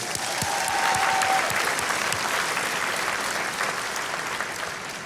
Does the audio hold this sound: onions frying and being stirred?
no